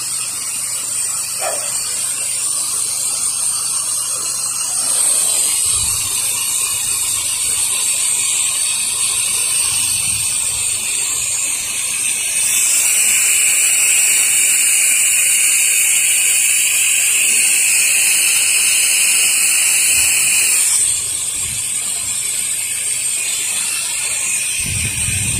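A pressure washer sprays water in a steady, loud, continuous hiss while rinsing the siding of a short house outdoors in light wind, the tone shifting as the spray angle and distance change.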